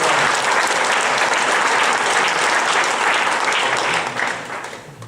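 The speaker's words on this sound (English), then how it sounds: "a big round of applause, which I'd love to have." Audience applause at an evening gathering, dense steady clapping from a full room that tapers off in the final second.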